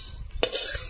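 Sesame, cumin, black pepper, white mustard and coriander seeds dry roasting in a pan, a short close scrape of stirring with a faint sizzle.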